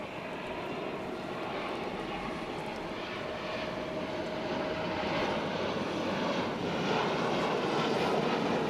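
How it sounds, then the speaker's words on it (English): An American Airlines airplane arriving from Albuquerque at Dallas/Fort Worth Airport, a steady broad engine roar that holds loud and even throughout and builds slightly toward the end, with no voices. "Here comes an American flight from Albuquerque, New Mexico."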